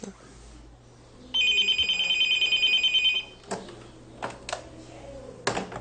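A telephone rings at a women's support centre, one steady electronic trill lasting about two seconds, followed by handset clicks and light knocks in a quiet office.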